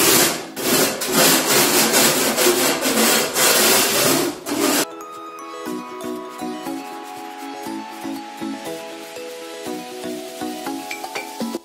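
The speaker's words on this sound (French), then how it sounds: "Première chose, c'est de gratter toutes les croûtes éventuelles." Crusts being scraped off a wall before plastering, loud rhythmic rasping strokes for several seconds, then quieter lighter scraping and scratches, close by and with no voices.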